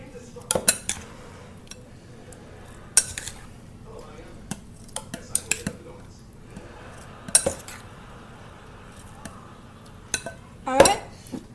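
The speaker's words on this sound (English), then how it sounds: "I'm going to take some of these strawberries that have been soaking in sugar, and we're going to scoop them into the blender portion thing." Metal spoon clinking against dishes while scooping sugar-soaked strawberries into a blender jar, scattered sharp clinks and scrapes at an irregular pace, close and moderately loud, with a clustered clatter near the end.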